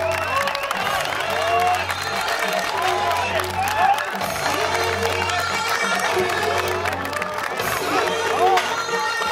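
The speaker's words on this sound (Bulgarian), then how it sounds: "Аплодисменти за Кристиан." A crowd at a strongman competition claps, cheers and shouts for the athlete Kristian, a loud, busy roar with excited voices and music-like tones running underneath the whole time.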